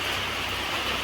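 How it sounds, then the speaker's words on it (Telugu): Steady rain pours down in a continuous, even hiss that stays fairly loud from start to finish, with no voices heard. "అదిగో చూసారా వర్షం."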